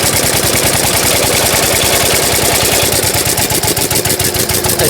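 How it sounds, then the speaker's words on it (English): A 1904 De Dion Bouton veteran car engine chugs with a loud, rapid, evenly spaced beat that is close to the listener, its firing pulses running steadily throughout with a slight shift in pace as it revs. "And just by moving the ignition control, increases the revs."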